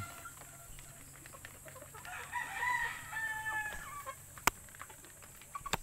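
Chickens and roosters at a poultry coop where stags are raised: a rooster crows clearly in the middle, with scattered clucks and a couple of sharp knocks around it, moderately near.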